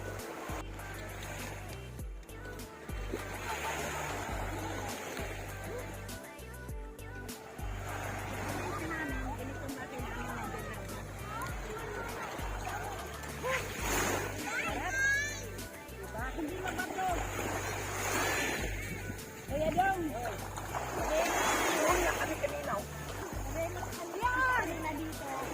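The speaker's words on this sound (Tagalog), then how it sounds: "Napakaganda dito ng dagat," Sea at a clean beach in Lubog, Batangas, with waves washing and splashing steadily, distant swimmers' voices babbling, and a person talking throughout over the surf.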